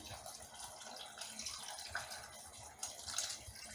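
Boiled water pours and splashes into a pot of cabbage soup in uneven gushes, close by and fairly quiet, with a few small clinks.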